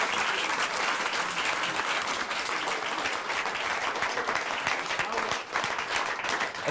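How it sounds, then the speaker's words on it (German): Sustained applause from a studio audience at the grand finale of a Swiss rural cooking competition show, steady dense clapping throughout at moderate level, with no speech over it. "das ist dein Applaus"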